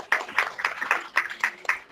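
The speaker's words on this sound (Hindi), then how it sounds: "Yes, this clapping for you," An audience claps in a steady rhythm of sharp, separate beats at moderate distance, a church or religious gathering in Pakistan. The beats come about four times a second, with no talk over them.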